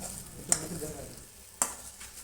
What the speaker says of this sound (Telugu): తరువాత పొటాటో ముక్కలు వేసుకొని వాటిని అలా కలపాలి.